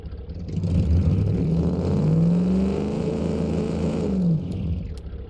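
A combustion engine in the car-building game Automation, fitted to a large land yacht, revs loudly and steadily with a rising whine over a dense drone, then eases slightly near the end, with no talking.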